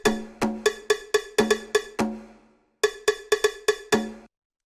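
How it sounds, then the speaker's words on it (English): Cowbell in a funky disco house track, a tight syncopated pattern of sharp metallic clanks close up and prominent, pausing briefly before the groove resumes, with no voices. "having this bongo even, which is more of a background element, but you hear how that plays off of the cowbell"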